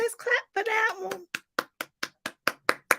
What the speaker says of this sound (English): Come on, let's clap for that one.